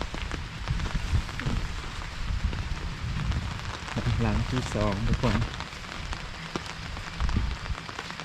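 Steady rain patters and hisses on a surface throughout, while a person speaks briefly over it and other voices chatter faintly.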